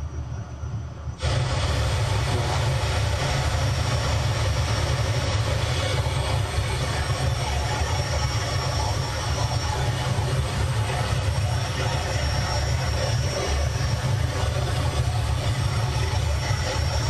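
A chase plane's aircraft engine drones steadily in Microsoft Flight Simulator, a loud continuous hum with a strong low-frequency rumble that kicks in after a second of quieter sound and holds for the rest of the stretch.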